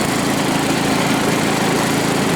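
A small engine runs steadily in high gear with no load being pulled, a loud, even, buzzing drone close to the microphone, with no voices.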